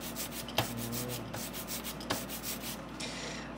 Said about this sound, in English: it's making a kind of like sticky Velcro sound. That means there's too much ink in one spot.